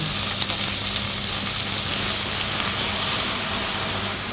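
A hot pan sizzling loudly and steadily as rehydrated morel mushroom soaking liquid deglazes the browned bits, a dense continuous frying hiss with no pauses and no voices.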